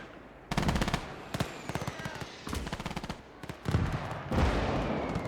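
Bursts of machine-gun and rifle fire in the WWII battle game Gates of Hell: Ostfront, rapid rattling volleys in several clusters with brief gaps, moderately distant and crackling.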